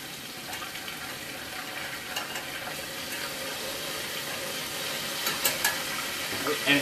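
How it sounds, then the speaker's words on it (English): A pork chop fries on a stove with a soft, steady sizzle and faint crackle close by, and a few light clinks near the end. "Have a look at my pork chop while this is cooking."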